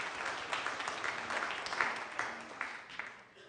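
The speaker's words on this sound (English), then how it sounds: "Let's have a round of applause for Pat again." Steady crowd applause with dense clapping throughout, fairly loud and sustained, tapering slightly toward the end.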